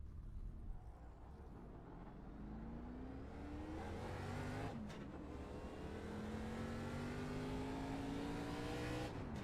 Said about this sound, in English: This car is slightly louder. Hopefully it's not too loud.